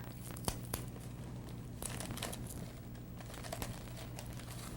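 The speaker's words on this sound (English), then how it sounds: "I'm just going to use clear tape. And I like to run down the whole seam with the tape" Clear tape pulled off and pressed along the seam of gift wrap paper, a faint crinkling and tearing. Soft ticks and rustles come over a low, steady background hum.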